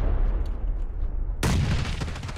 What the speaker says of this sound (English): did you guys throw a nade?